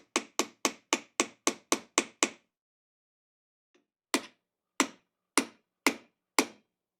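A hammer taps a nail out through the wood of an antique chair: a quick run of about nine sharp, evenly spaced strikes, a pause, then six slower blows, each crisp and close.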